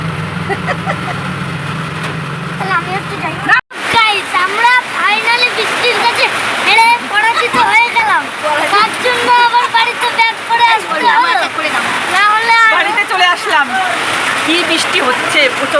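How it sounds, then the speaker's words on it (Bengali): Heavy rain pours down steadily, giving a dense rushing wash. Loud, close voices talk over it almost the whole time. "প্রচন্ড বৃষ্টি হচ্ছে"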